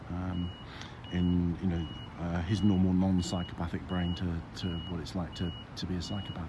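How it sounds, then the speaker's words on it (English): Intermittent high reversing beeps from a vehicle in a city centre sound in a regular rhythm behind someone talking steadily close to the microphone. "Sorry about the beeping in the background."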